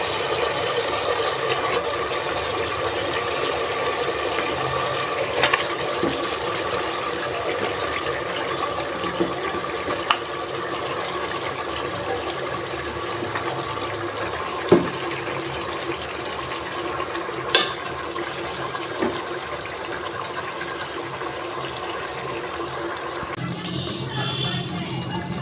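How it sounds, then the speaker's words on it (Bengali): Beef sautés in a spiced curry masala in a pan for a home beef curry, giving a steady, dense sizzle and hiss that runs the whole time with a few faint clinks. "মাংস কষানো হচ্ছে, প্রায় কষানো হয়ে গেছে।"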